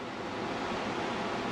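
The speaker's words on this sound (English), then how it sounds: "What I'm looking at is I'm looking at waves traveling in towards the beach" Ocean waves wash steadily onto a beach at sunset, a continuous broadband surf roar with light wind buffeting, no voices.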